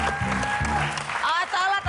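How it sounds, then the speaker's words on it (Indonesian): Brief applause from the audience at a karate duet performance, a short burst of clapping mixed with people talking. "kita akan tepuk tangan dulu"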